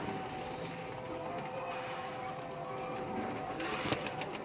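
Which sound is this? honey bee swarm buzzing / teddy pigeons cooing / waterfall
teddy pigeons cooing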